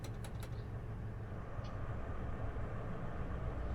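A Class 43 train departing Glasgow Queen Street in Train Sim 2020 gives a steady low rumble and hum that holds at an even level throughout, with a few faint high clicks near the start.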